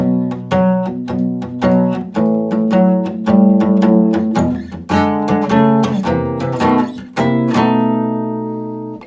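An up-tempo acoustic blues shuffle riff on guitar in E moves through the third line of a twelve-bar pattern, with steady, driving picked notes and chords played close and loud, ending on a ringing chord with no voices.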